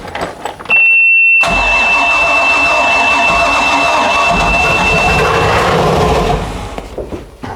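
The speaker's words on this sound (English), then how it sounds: "All right, it runs. So I cut it off as soon as it fired" Flooded Mercruiser boat engine cranking and catching, a loud, harsh roar that holds for several seconds over a thin high whine before being cut off abruptly.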